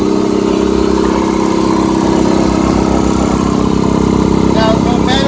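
An air compressor runs with its cooling fan spinning, a steady, fairly soft mechanical hum and whir held constant throughout, with light higher clicks near the end.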